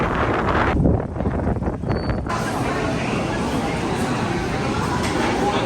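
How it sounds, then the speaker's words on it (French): Heavy wind in Miami roars and buffets the microphone continuously, a dense, loud rush that drowns out most other sound. "Il y a un vent de malade, c'est genre que limite même pas avancer"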